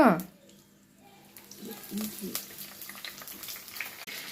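Soft crackling sizzle of curry leaves dropped into hot oil while tempering for crab curry, with a gentle frying hiss continuing behind, close and fairly quiet.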